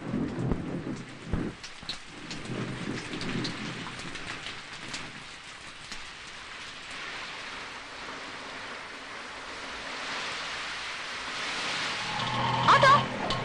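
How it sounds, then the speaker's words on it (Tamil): Heavy rain pours steadily in a dense, hissing wash, with low thunder rumbling near the start and the downpour swelling louder toward the end. "என்ன கண்ணு இந்த மழையிலையா?"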